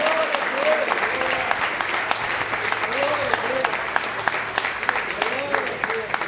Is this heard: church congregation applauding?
yes